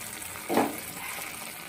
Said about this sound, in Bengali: নাড়িয়ে দিলাম অনেকটা টমেটোটা নরমও হয়ে গেছে